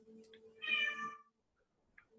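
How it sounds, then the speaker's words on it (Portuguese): A house cat meows once, a clear, fairly close drawn-out call, with a steady background hum and no talking. "Você ouviu um gato aí?"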